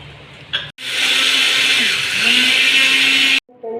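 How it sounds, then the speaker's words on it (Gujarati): A kitchen mixer grinder pulverises dry poha (flattened rice flakes) into powder. A short burst is followed by a loud, continuous high-pitched whir lasting under three seconds, which then cuts off, then a brief restart at the end. "આ પૌવાને આપણે મિક્સરમાં દળી એનો પાવડર બનાવવાનો છે."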